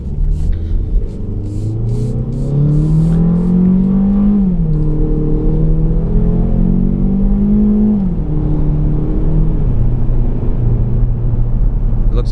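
A 2014 Ford Focus Titanium pulls away and accelerates, its engine note climbing steadily from near the cabin, dipping at a gear change around four seconds and again near eight, over a constant road rumble with no talking.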